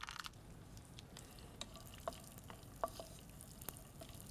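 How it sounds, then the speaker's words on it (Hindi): Chopped cashews frying in desi ghee, a soft steady sizzle with a few light stirring clicks and taps, fairly quiet and close, no talking. "जैसे ही घी गर्म होता है इसमें हम डालेंगे चॉप किए हुए काजू।"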